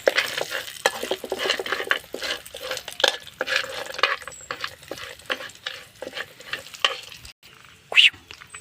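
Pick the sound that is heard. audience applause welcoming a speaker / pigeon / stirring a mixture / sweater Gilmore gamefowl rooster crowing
stirring a mixture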